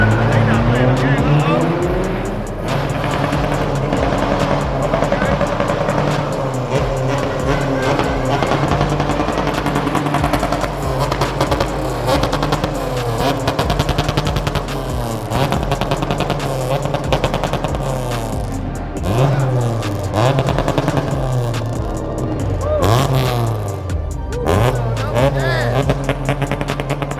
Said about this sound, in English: Boy, they be hitting the gas.